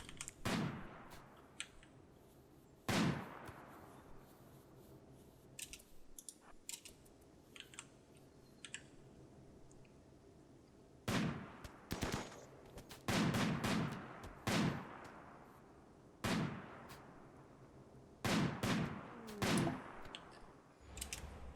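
Gunfire in the video game Rimworld during a raid ambush: scattered bursts of sharp shots, some rapid and clustered, with quieter gaps between volleys and no speech.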